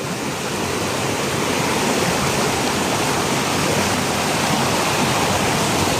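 Creek water rushing steadily downhill, a loud, dense and continuous close-up flow with no breaks and no voices.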